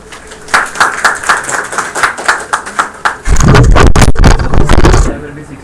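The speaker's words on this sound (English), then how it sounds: "let's welcome Gopal with a round of applause" An audience at a Doyen Club meeting claps to welcome a speaker, starting with a few loud individual claps that build into a dense, close burst of applause before fading.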